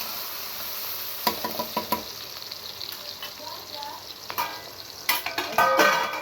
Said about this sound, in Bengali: এখানে দিলাম পেঁয়াজ আর কাঁচা কাঁচামরিচ